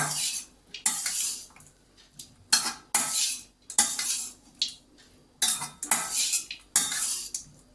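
A metal spoon scraping and stirring coconut rice sprinkled with coriander leaves in a pan, about eight separate bursts of close scraping with brief quiet gaps between them, no talk.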